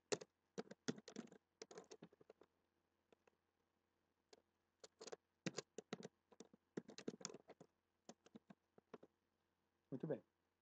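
Typing on a computer keyboard, heard as bursts of rapid clicking keystrokes separated by short pauses, close and fairly quiet, with no talking.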